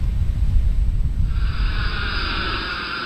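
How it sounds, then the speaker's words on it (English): A jet airplane rumbles overhead in the Florida Keys, its low roar swelling into a broad, steady whoosh that grows louder midway and holds. "That's a jet."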